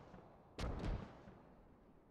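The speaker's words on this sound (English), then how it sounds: "Oh, there's mortar." A single distant mortar round lands in the military shooter game Squad, a short dull boom with a low rumbling tail against a quiet background.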